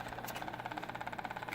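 The motor of a Wltoy 12423 RC car, which is not responding to the remote, gives off a rapid, even ticking pulse, close and moderately loud, with no one talking.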